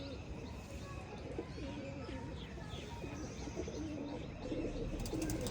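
Pigeons coo in a repeated, rolling rhythm close by, with scattered bird chirps over a steady background hum.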